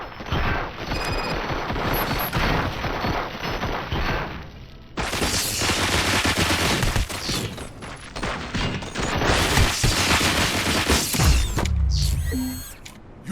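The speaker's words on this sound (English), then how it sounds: "Fire at will." Gunfire in the video game Robocop Rogue City, loud sustained bursts of automatic shots with mechanical clatter, broken by brief pauses.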